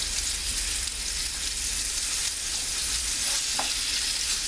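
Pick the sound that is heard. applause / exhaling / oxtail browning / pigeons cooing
oxtail browning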